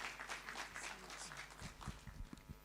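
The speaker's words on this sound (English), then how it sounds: "let's encourage her and clap for her as she comes" An audience at an arts event in Nairobi gives a burst of quiet applause, scattered clapping heard faint and somewhat distant with a few sharper claps near the end.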